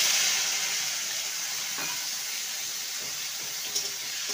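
Chopped tomatoes hitting a hot pan of spice tempering for Bengali dal give a steady, moderately quiet broadband sizzle that holds evenly throughout, with a few faint stirring clicks and no voices.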